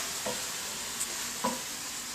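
Pork sizzling steadily in hot oil over a high gas flame, a continuous broad hiss with a few soft stirring scrapes.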